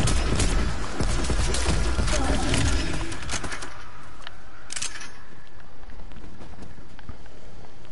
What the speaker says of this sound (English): I love the ray gun.